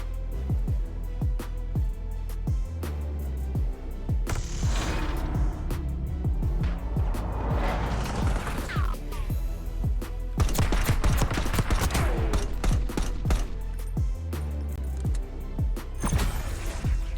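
Dense gunfire fills a competitive video game gunfight in a college esports playoff match, with rapid overlapping shots and bursts of automatic fire, close and loud throughout, and brief gaps between volleys.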